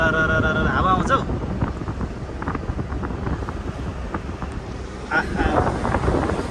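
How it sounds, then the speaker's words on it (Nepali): Wind rushes into a moving car on the road to Bhaktapur, a steady buffeting roar against the microphone mixed with engine and road noise, while people talk over it. "सारा हावा आउँछ हौ।"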